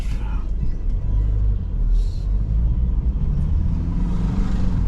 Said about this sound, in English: bloody hell, there's some lorries down here